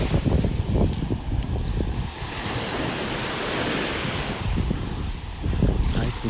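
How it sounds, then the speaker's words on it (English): Ocean waves break and wash onto a beach in North Naples, Florida, the surf swelling and receding in loud rolling surges mixed with gusting wind noise. "Over the past several days, the waves have been calming down."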